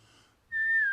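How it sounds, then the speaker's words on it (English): A person whistles a melody, first a faint wavering tone, then a clear, loud sustained note that drifts slightly in pitch, alone with no voices. "singing and whistling his beautiful melody"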